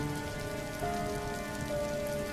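Heavy rain falls at night in a forest setting, a steady dense hiss of drops on surfaces that stays even and close throughout, with no voices.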